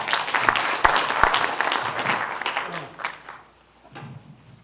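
Delegates at a union's regular representatives' meeting applaud to approve a regulation, a few sharp claps followed by steady clapping that tapers off after about three seconds.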